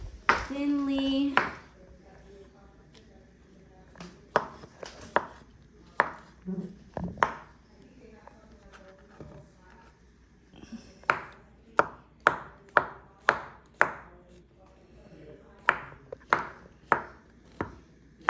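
A knife chops mushrooms finely on a board, with scattered sharp strikes early on and then a rapid series of crisp, close chops in the second half, under occasional talk.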